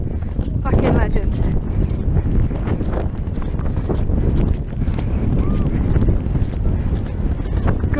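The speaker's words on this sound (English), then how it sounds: "You quality little horse." Hooves of a horse out with a farmers' bloodhound hunt at Chaddlington clip-clop in a fast, steady rhythm, close and loud over wind noise and bustle, while someone talks.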